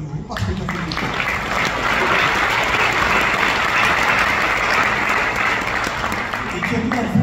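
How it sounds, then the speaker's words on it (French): Sustained applause from an audience at a Paris event honouring the Congolese ambassador, loud and dense clapping running steadily for several seconds with a faint crowd murmur beneath and no speech over it. "C'est vrai qu'on peut t'applaudir de nouveau"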